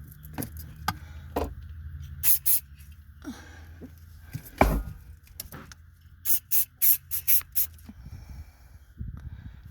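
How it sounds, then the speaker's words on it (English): Several short hissing bursts of silicone spray around a 2004 Saturn Vue steering column collar, a quick string of them near the end, with some rustling and handling noise in between. "I've been spraying the silicone all around"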